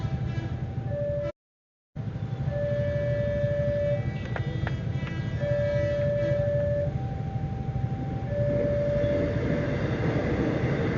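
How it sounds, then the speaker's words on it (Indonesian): A Tayo-themed commuter train passes on a road near a level crossing, a continuous low rumble with sustained horn-like tones sounding on and off and one brief dropout partway through. "Barusan kereta Tayo ya."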